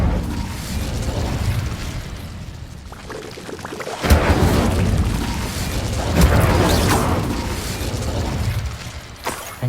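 An Incendio fire spell in Hogwarts Legacy bursts into a roaring whoosh of flame, with sharp crackling flares at intervals over a sustained rushing fire noise, loud and close.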